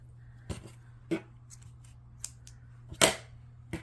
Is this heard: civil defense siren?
no